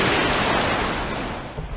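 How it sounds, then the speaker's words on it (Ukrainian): Adriatic Sea waves wash and break nearby on a stony-bottomed shore, making a steady broadband roar that eases slightly toward the end. No talk is heard over it. "Ох, які хвилі."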